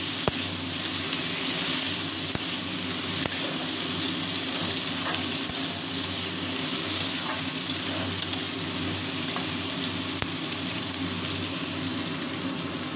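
Chopped tomato and capsicum frying in a pan for a potato-paneer curry, a steady close sizzle running throughout with occasional sharp ticks and scrapes from stirring, and no talk.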